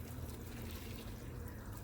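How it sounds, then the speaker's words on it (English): Bacon and its grease are poured from a frying pan into a pot of beans in a home kitchen, a soft, steady liquid pour and trickle that stays faint and continuous with no talking. "We're gonna pour it into our beans."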